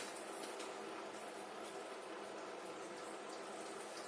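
Fennel seeds, cumin seeds and asafoetida sizzle steadily in a small pan of hot fat, giving a continuous close crackling hiss that holds at an even level throughout with no talking.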